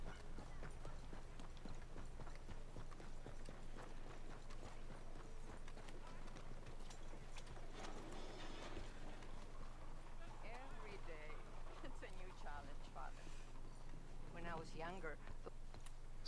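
Horse hooves clip-clop in the Red Dead Redemption 2 video game, a steady trotting rhythm running under continuous talk and other game sounds.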